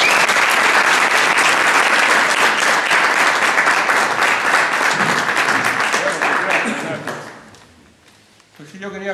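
Loud, close applause from an audience welcoming a speaker at a talk in Madrid, heavy and continuous for about seven seconds before tapering off, followed by a brief voice.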